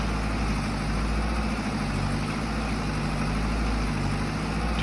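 Tractor engine in Farming Simulator 22 idling in a steady, even low rumble with a faint vibrating throb, loud and alone with no speech.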